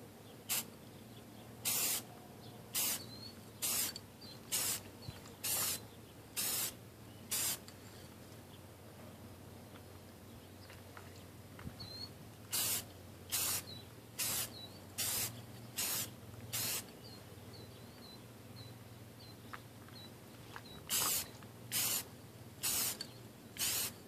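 Spray can applying a second coat of paint for DIY camouflage: short, regular hissing bursts in three clusters of quick sprays with pauses between, fairly quiet against a steady background hum.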